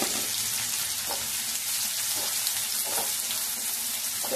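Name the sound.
chopped onion frying in refined oil in a wok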